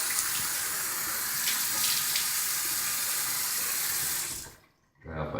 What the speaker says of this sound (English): Now I'm going to put cold water on my face to help close up the pores.